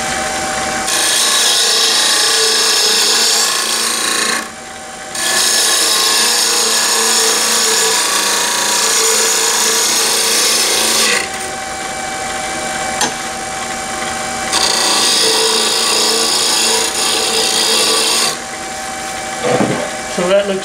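Wood being shaped and smoothed on a lathe, a loud continuous whirring hum with scraping tool contact, dropping briefly in short pauses before resuming steady cutting.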